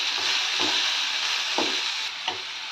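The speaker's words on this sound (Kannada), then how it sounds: "ಟೊಮೊಟೊ ಸಾಫ್ಟ್ ಆಗೋವರೆಗೂ ಚೆನ್ನಾಗಿ ಹುರ್ಕೋಬೇಕು" Tomatoes sauté in a pan until soft for a tomato chutney, producing a continuous close sizzle broken by four soft, evenly spaced stirring scrapes.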